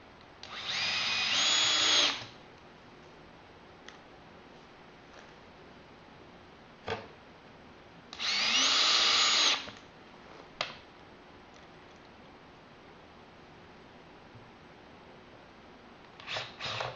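Power drill on a craft cart assembly boring through felt in two sustained whirring bursts of about two seconds each, separated by quiet gaps with a few small clicks and handling taps, close and fairly loud.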